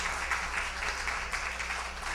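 A crowd applauding at a Haitian literary awards celebration in New York, a continuous, fairly loud wash of many hands clapping that stays level for the whole stretch.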